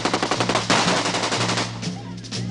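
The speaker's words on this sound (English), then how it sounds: "This is the AK-47 assault rifle, the preferred weapon of your enemy, and it makes a distinctive sound when fired at you" AK-47 assault rifle firing in a war film scene, rapid bursts of loud automatic gunfire in a steady rattling rhythm that fills the sound, with a brief lull before the shots resume.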